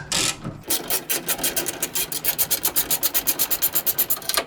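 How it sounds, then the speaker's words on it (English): Bolts holding the radiator and cowling of an MG Midget are backed out with a ratchet, giving a close, rapid train of rasping clicks that speeds up toward the end, with no voices. "next we're going to take out all the bolts that hold the radiator and the cowling together"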